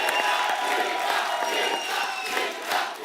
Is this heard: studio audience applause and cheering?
yes